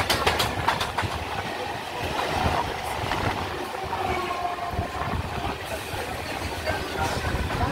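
A passenger train bound for Sealdah rolls on from Dum Dum, its steady loud rumble and rattling wheels filling the whole stretch close by, with faint clacks over the din.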